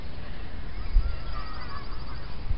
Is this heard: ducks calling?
yes